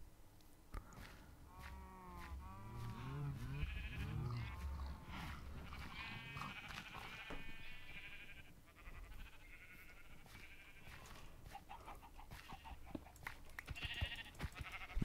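Sheep in the Minecraft video game bleat several times in wavering calls, clear and close, with other game sounds in the background.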